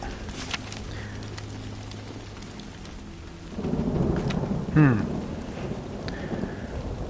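Rain pours steadily in a zombie video game while thunder rumbles and builds partway through, with a sharp crack near the middle; a man murmurs briefly over the storm.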